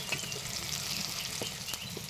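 Tomato, ginger, garlic and green chili sautéing in a hot pan, a steady bright sizzle with a few soft stirring scrapes, close and continuous, no speech.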